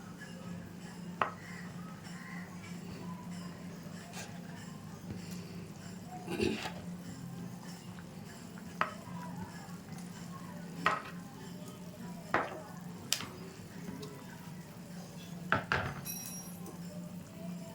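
Semolina sweets fry lightly in hot oil with a steady low bubbling hiss, broken by occasional clinks and scrapes of a utensil against the pan.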